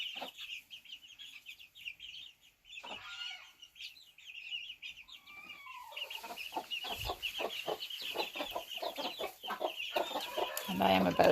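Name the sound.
chickens clucking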